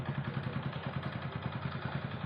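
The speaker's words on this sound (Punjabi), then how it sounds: "ਮੋਟਰਸਾਈਕਲ ਚੱਕ ਲਿਆ ਅੱਜ" A motorcycle engine idles steadily after a cold start, a low, even chugging pulse running throughout at moderate loudness with no talk.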